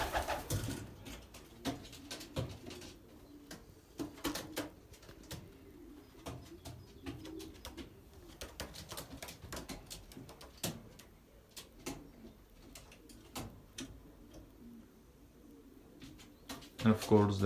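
Belgian racing pigeons coo in a loft, soft repeated coos near the microphone mixed with wing flutters and knocks, while someone talks over them.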